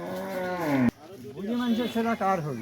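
A large foreign-breed bull moos close by with a long, deep, drawn-out call, then breaks into a second, wavering bellow.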